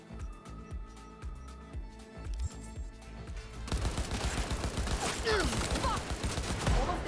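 Rapid bursts of assault rifle fire in a video game, first sparse sharp shots, then a dense, loud sustained barrage with overlapping impacts and effects.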